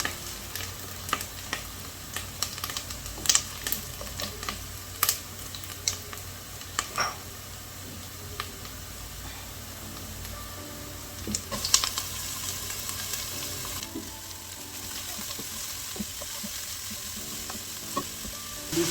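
Onions and spinach frying in a pan for a Kenyan meal, a continuous soft sizzle broken by sharp crackles and occasional scraping stir strokes, close up with no talking.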